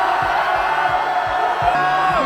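A large crowd at the GP Explorer car race event cheers and shouts in a continuous, loud roar, with rhythmic low thumps pulsing underneath.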